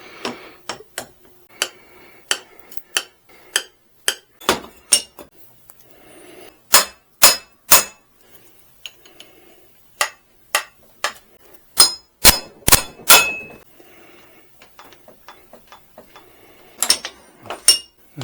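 Sharp metallic hammer blows driving a U-joint cup into a van driveshaft, a steady run of ringing strikes with short pauses between bursts, close and loud, no talking.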